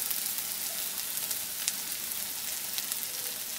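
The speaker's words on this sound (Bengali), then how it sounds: "ভালো করে এটাকে আদা রসুনটা পেঁয়াজের সাথে কষিয়ে নিচ্ছি" Ginger, garlic and onion frying in a pan, a steady hissing sizzle with faint crackles, close and even, no voices.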